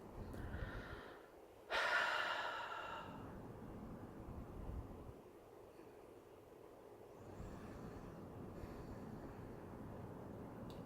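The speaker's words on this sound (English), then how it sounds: "I'm breathing in and out, feeling good." Slow, audible breaths drawn in and let out, a strong rush of air near the microphone followed by softer, steady exhalations against a quiet room background.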